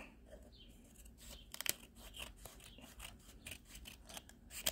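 Scissors cutting open a mail envelope, a run of crisp irregular snips and paper rustles, close but fairly quiet.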